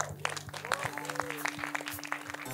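An audience at a film gala premiere claps in a steady, moderately loud burst of applause, while voices talk over it.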